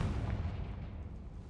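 A Confringo blasting spell goes off in Hogwarts Legacy, a heavy booming explosion with a thick low rumble that fills the whole moment and slowly settles without fading out.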